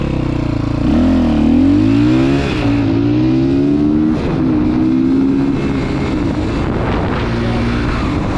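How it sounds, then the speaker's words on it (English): Kawasaki GPX300R motorcycle engine on the stock ECU, loud and close, revving hard then decelerating under engine braking with a continuous rising and falling drone and a few sharp exhaust pops. "Trying to go hard on the throttle there, then just let off and let it engine break down, because that seems like where you find the most popping"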